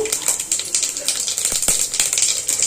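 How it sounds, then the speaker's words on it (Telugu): Mustard and cumin seeds splutter in hot oil for a tomato pickle tempering, a dense, steady crackle of tiny pops and hissing sizzle with a few sharper snaps, close and continuous, no talk. "ఆవాలు జీలకర్ర మంచి చిటపట్లు ఆడుతున్నప్పుడు కొంచెం మినప్పప్పు"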